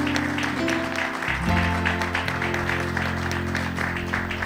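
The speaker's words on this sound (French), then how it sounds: "Nous vous accueillons avec ces acclamations, mesdames et messieurs" Church congregation applauding and cheering during a service, a broad wash of clapping mixed with sustained keyboard or organ chords, steady and moderately loud throughout.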